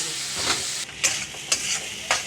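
Red amaranth greens with chopped green chilli stir-fried in a pan, a close steady sizzle broken by several sharp bursts as the greens are tossed and stirred.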